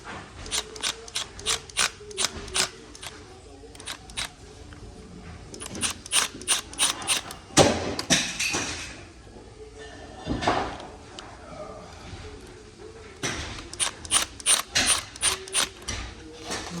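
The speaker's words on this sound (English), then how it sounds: "we're just going to put the screws right back in there so they don't get lost" Screws being driven back into a Herman Miller Aeron office chair, a close run of quick ratcheting clicks in bursts with short pauses and a few louder scrapes and knocks.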